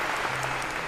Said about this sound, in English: A round of applause for Aviva for coming on up.